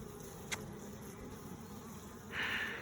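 Honeybees buzz steadily and close by during a beehive inspection, a continuous droning hum that swells louder near the end, with a brief knock early on and no talking.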